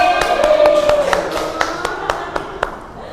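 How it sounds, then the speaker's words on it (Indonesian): A class of students claps hands in a classroom, a short scattered burst of sharp claps that thins out over a few seconds, with a faint tone and voices in the background. "Tepuk tangan."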